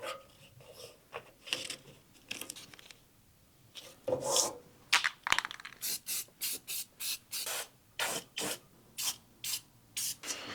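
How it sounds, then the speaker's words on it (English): Short hissing blasts of black spray paint on the inside of a 1948 GMC truck panel repeat in a steady rhythm, each burst a second or less, with scraping and rubbing noises earlier on. "I'm gonna spray some black paint on the inside of this thing"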